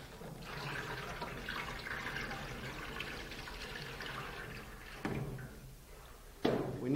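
Tap water runs steadily into a darkroom tray or container to make a dilute acetic acid pre-soak, a soft, even flow with a couple of brief knocks near the end, no talk.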